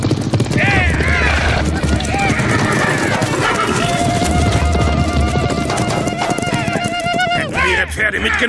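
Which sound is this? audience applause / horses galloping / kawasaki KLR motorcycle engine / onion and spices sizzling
horses galloping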